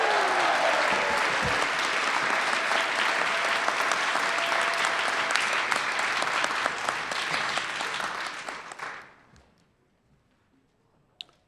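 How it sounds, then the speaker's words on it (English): A large audience at a regional spelling bee applauds about 80 contestants with loud, dense, continuous clapping that fades out toward the end, leaving near silence with a single faint clap. "Let's give them a big round of applause."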